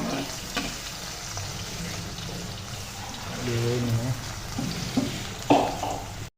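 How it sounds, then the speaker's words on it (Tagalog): Ginger sizzles and spits in hot oil in a pan where tilapia is already frying, a steady crackle that swells around the middle with stirring, while someone talks over it. "Pati yung luya pare, nang maprito na yan."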